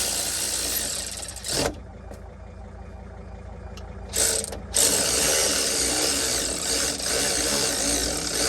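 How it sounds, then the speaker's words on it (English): A ratchet wrench drives driveshaft bolts on a T1N Sprinter van, giving loud, close, rapid clicking in steady runs with two short pauses midway. "Started by hand, then I'm going to drive them in with a wrench."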